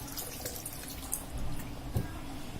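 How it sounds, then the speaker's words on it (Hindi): Water poured into a pot of vegetable biryani rice gives a soft, steady trickle and splash, fairly faint and continuous with one brighter splash near the end, and no voices. "मैं थोड़ा और पानी डाल देता हूँ क्योंकि चावल फूलेगा।"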